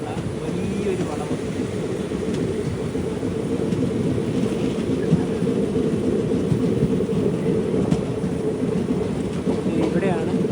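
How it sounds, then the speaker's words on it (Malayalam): A passenger train rounds a long curve on its approach into Kannur station, a steady, close rumble of wheels and carriages with occasional light clicks, continuous for the whole stretch with no talk over it. "ട്രെയിനിപ്പോൾ കണ്ണൂരിലേക്ക് എത്തുകയാണ്. സ്റ്റേഷൻ എത്തുന്നതിന് മുന്നേ തന്നെയുള്ള വലിയൊരു വളവ്."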